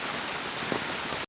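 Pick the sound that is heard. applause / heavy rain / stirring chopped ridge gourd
heavy rain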